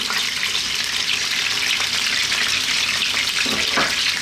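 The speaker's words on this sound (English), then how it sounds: "Our next step is to add our onions." Onions fry in a pan for an Italian garlic chicken tomato stew, giving a loud, close, continuous sizzle with a brief scrape near the end.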